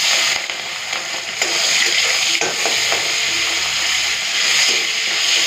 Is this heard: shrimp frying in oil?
yes